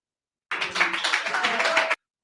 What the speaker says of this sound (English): these fucking idiots are clapping for a guy who totally left the subject